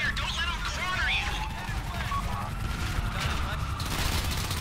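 Rapid bursts of gunfire from a GTA 5 firefight on PC fill the whole stretch, loud and steady, with excited voices talking over it.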